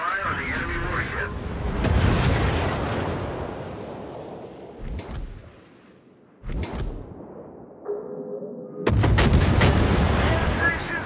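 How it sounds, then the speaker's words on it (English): Naval artillery in the World of Warships game booms in loud, heavy salvos, with several big blasts and whooshing shells spread over the stretch and a radio-style voice speaking between them. "Concentrate fire on the enemy warship."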